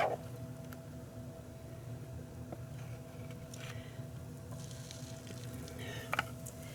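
Bacon frying in a pan on a stovetop set around 300 degrees, a quiet, steady sizzle with faint crackles and a few brief clinks near the end.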